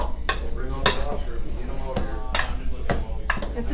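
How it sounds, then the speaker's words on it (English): A spoon clinks and scrapes against a bowl as thawed frozen berries are stirred for a smoked berry cobbler, with several bright, ringing knocks spaced irregularly over a wet, mushy churning. "I'm just gonna take a spoon, mix this up."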